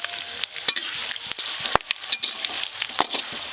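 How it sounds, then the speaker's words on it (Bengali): Chicken is added to hot oil already used for frying garlic and potatoes, tempered with panch phoron, dried red chillies and bay leaves, for a large batch of chicken curry. Close, crackling sizzle with scattered sharp pops and stirring clatter. "এবার ওই তেলেই মাংসটা তুলে দেবো তার জন্য ফোড়নে দেবো পাঁচ ফোড়ন শুকনো লঙ্কা তেজপাতা"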